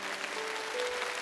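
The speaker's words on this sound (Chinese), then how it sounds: "掌声欢迎他们来到经典永流传" A studio audience at a televised gala gives a steady burst of applause to welcome performers onto the stage, continuous and even throughout with no talking.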